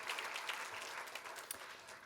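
A church congregation applauds during a Christmas worship service, a moderately distant, even patter of many hands clapping with a few sharper claps standing out.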